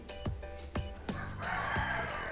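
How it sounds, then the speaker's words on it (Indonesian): A rooster crows at a home, heard as several fairly loud, close calls followed by a longer drawn-out crow, alone with no talk. "Ayam berkokok"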